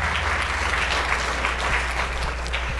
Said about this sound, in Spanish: hay que darle un aplauso a los de audio y video